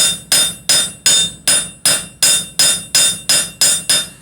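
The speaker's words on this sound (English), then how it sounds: "I'm striking with the heel of the hammer" Hammer heel repeatedly striking hot metal while shaping a bowl, a steady rhythm of about a dozen sharp, ringing blows, close and loud with no talking.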